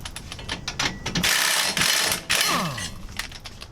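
A hand socket wrench ratchets against stubborn nuts on a Land Cruiser winch mount, giving rapid metallic clicking in short bursts with a few louder strained pulls, close up and without speech.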